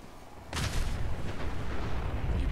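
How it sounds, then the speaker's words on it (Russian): Loud in-game explosion in Fallout 4 bursting in sharply, then a sustained rumbling blast with crackling debris that keeps roaring for the rest of the moment, no voices over it. "Что за взрывы такие аномальные?"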